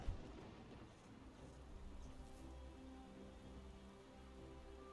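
Rain summoned by a Rain Scroll spell in Divinity: Original Sin 2 during turn-based combat, a soft continuous patter of rainfall and drops, faint and steady throughout with no talk.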